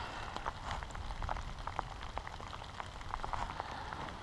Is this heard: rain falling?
yes